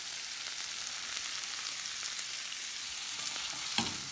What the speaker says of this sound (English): we just want to stir these gently as they cook for about 5 to 7 minutes